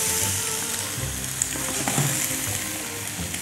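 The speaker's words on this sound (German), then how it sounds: "Die tue ich jetzt auch im Öl in der Pfanne anbraten." Giant prawns sizzle and crackle in hot oil in a pan, a busy, close frying hiss with a few clinks from stirring.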